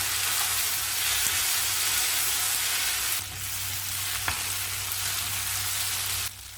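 Continuous crackling sizzle of drumstick, green mango and brinjal sautéing in a pan for Chettinad sambar, steady throughout with a low hum beneath and a couple of faint knocks.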